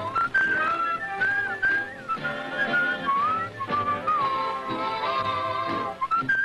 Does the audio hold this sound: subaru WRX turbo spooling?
no